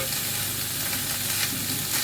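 Paneer pieces fry in a pan with a dense, loud, steady sizzle and faint stirring, heard close up and with no voices.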